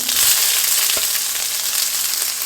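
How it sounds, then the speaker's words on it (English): Onion and cumin seeds fry in hot oil for a Himalayan-style dal aloo sabzi, giving a steady, close, bright sizzle with a faint scrape partway through and no voices. "So just fry this until onion get caramelized"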